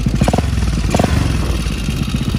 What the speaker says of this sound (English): my bike start first kick